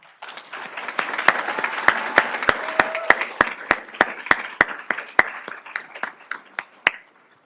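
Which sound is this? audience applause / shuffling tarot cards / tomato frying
audience applause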